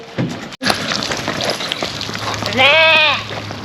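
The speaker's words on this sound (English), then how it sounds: "We're going to come over now and feed some more sheep. Now these sheep are dorpers." A Dorper sheep at a farmstay lets out one clear, wavering bleat near the end, following a sharp knock and a stretch of shuffling farm noise.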